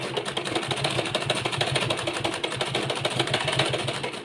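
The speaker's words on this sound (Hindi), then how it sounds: "तो कुछ इस तरीके से हम सिलाई लगाएंगे। बहुत ही आराम से आपको सिलाई लगानी है।" A sewing machine stitches a design into a wide neckline with a fast, steady mechanical rattle, moderately close and running without pause, with no talking.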